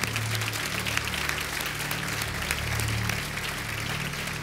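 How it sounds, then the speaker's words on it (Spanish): A church congregation applauds together, a continuous field of clapping over a low, sustained organ or keyboard hum, moderately loud and steady throughout without speech. "dale un aplauso a Dios"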